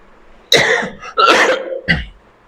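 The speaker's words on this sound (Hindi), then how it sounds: "खांसी है थोड़ी दोस्तों, एडजस्ट करना" A few sharp, loud coughs close by, three bursts in quick succession with brief pauses between them.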